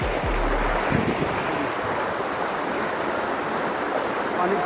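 Loud roaring rush of water pouring through a canal, a steady broadband torrent that stays close and continuous from start to finish, with a few low thumps near the beginning.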